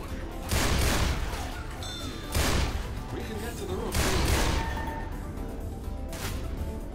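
Gunfire bursts in a cooperative zombie apocalypse video game, several loud shots and blasts spread over a few seconds amid ongoing game noise, with players talking over it.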